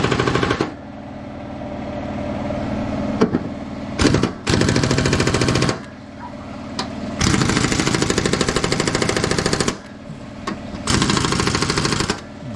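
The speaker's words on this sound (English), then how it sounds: "let's get these bolts tightened back up again" Power tool driving bolts back onto new ride-on mower blades, a loud rattling hammer in several bursts of one to three seconds with short pauses between, close up and alone.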